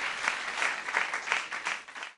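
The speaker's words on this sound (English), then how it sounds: "A round of applause for them." A studio audience applauds the house band on a stage show, a dense, steady burst of many hands clapping that carries through the whole moment with no voices over it.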